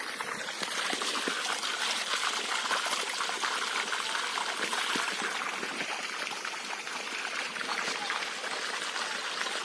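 Steady splashing and trickling of water pouring from the 3-inch delivery outlet of a 600W, 60V BLDC solar water pump used for farm irrigation, running continuously and fairly close throughout, with no talk.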